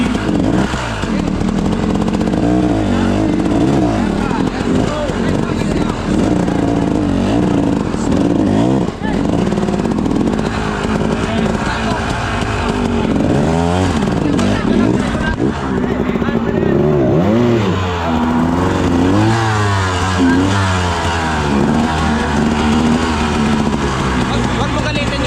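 A motorcycle engine at a race in Porac, Pampanga roars and revs continuously, loud and close, its pitch climbing and dropping repeatedly, with speech over it at times.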